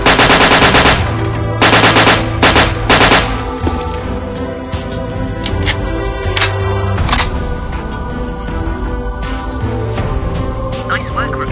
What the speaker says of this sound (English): use the cover to your advantage and aim carefully when shooting